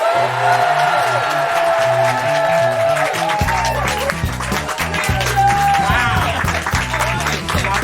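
An audience breaks into enthusiastic applause and cheering with whoops, mixed with loud band music playing throughout.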